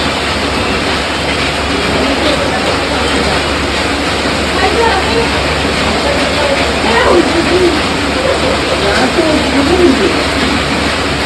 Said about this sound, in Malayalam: പുറത്ത് നല്ല മഴ ആയതുകൊണ്ട് മഴയുടെ ശബ്ദം കൂടി നമ്മുടെ വീഡിയോയിൽ ഉണ്ടാവും